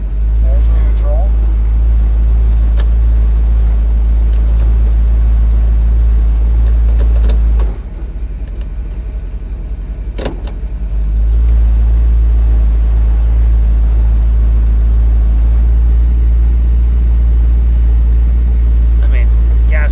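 An old wagon's engine runs loud and close while the car sits in gear with a stuck gas pedal, a heavy low rumble droning throughout that dips briefly midway before surging back.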